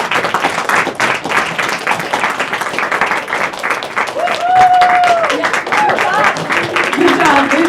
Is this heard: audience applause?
yes